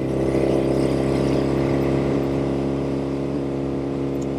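Restored 1972 Norton 750 Combat motorcycle running in top gear, a steady droning engine hum with strong even harmonics, close and continuous with no talking.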